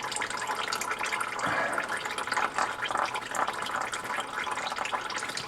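Gear oil draining from a Ford M5OD-R2 manual transmission into a pan, a continuous trickling, splattering pour with uneven bursts, close and fairly quiet, no voices.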